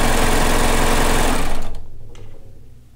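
A serger sewing machine stitches fabric for a kimono with a loud, fast, continuous whirring hum, then slows and stops after about a second and a half, leaving a few faint mechanical ticks.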